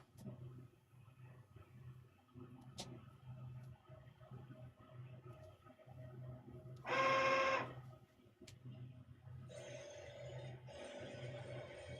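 A direct-to-garment printer laying down a full color print on a T-shirt for print-on-demand work: a steady mechanical whir of the print carriage with a loud, brief burst midway and a brighter hum toward the end, no voices.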